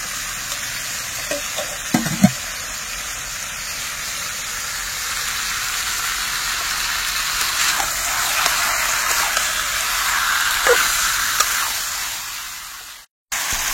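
Potatoes go into desi chicken meat cooking in a pot outdoors in a village, with a soft, steady sizzle throughout and a few brief clatters and stirring knocks near the start.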